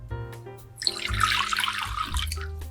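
Warm water being poured into a bowl for mini baguette dough made with imported French T55 flour, a close, steady splashing pour of about two seconds with no talking.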